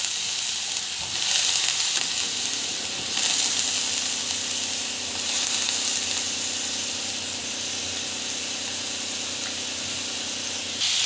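Raw banana pieces frying in a spicy paste in a pan, a steady loud sizzle and hiss with occasional stirring scrapes, continuous and close with no talking.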